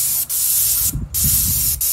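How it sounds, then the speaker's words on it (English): An airless paint sprayer applies exterior house paint to a home in Kansas City, giving a loud, steady close hiss broken by a few brief pauses. "Here's his horizontal coats."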